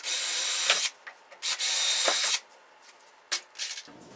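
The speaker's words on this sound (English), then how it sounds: "And I drill 2 1/4-inch diameter holes." A power drill boring two quarter-inch holes through a wooden glue jig, two loud sustained whirring bursts close up, each followed by brief clicks and handling noises.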